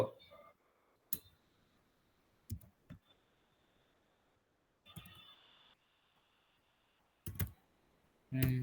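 A computer keyboard tapped in a few scattered, isolated clicks with long pauses between them, then a firmer key press near the end; close and quiet, with faint background noise.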